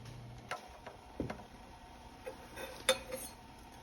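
A silver spoon is lifted out of a tinfoil and baking soda bath, producing a few scattered metallic clinks and taps, faint and close, with quiet gaps between.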